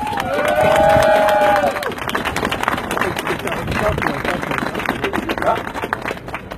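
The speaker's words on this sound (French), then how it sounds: "je voudrais justement, parce qu'il fait froid, vous demander de vous applaudir de votre présence" An outdoor crowd at a cold public square claps and cheers steadily from mid-distance, with scattered shouts and babble among the applause.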